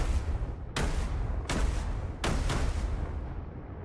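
Repeated loud launches from a heat-seeking missile launcher in the VR flight game Skyfront VR, about four sharp blasts at roughly regular intervals, each trailing into a rumbling roar that fades at the end.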